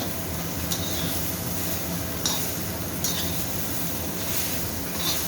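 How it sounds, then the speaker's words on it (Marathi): Soybean chunks with spices stir-fried in a pan give a steady, fairly loud sizzle, broken by a few sharp clicks of the spatula against the pan. "छान असं परतून घ्यायचं आणि सगळ्यात शेवटी मग त्यात मसाला टाकायचा"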